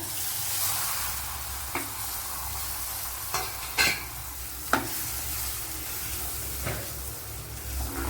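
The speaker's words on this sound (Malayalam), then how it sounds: "ഇതിലേക്ക് ഇനി അരച്ച് വെച്ചിരിക്കുന്ന അരപ്പ് ഒഴിച്ചു കൊടുക്കുക" A ground paste is poured into a hot pan for pineapple pulissery and fries with a continuous soft sizzle, broken by a few scattered clicks and scrapes of stirring, close by and without speech.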